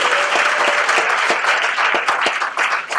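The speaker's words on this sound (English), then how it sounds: "One round of applause for all of our writers." A theater audience applauds steadily for the writers of a college show, a dense, even wash of clapping from many hands with individual claps popping out, continuing without pause.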